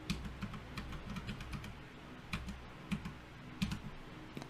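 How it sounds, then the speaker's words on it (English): A WiFi password is typed on a computer keyboard, quick irregular clusters of soft key clicks close by and quiet, with short pauses between bursts and no voices. "And then of course I have to type in that password"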